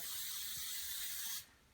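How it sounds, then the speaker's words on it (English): An aerosol can sprays a light coat of olive oil onto a cooking grate for a Dutch oven: one steady close hiss lasting over a second, then cutting off abruptly to near silence. "we're just going to spray a light coat"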